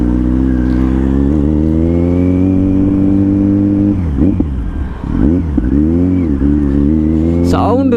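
A 2021 Kawasaki Z900 motorcycle engine runs loud and close with a deep, steady exhaust note, then blips the throttle in a few short revs before settling back to idle.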